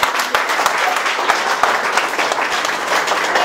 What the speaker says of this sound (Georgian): დიდი მადლობა და ტაში ბავშვებს.